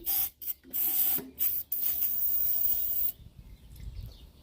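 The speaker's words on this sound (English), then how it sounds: "we're going to put a little starting fluid in there" Starting fluid sprayed into the engine of a Simplicity Sno-Away snowblower, heard as several loud hissing bursts in close succession, the last a long steady blast of about a second and a half, followed by quieter handling noise.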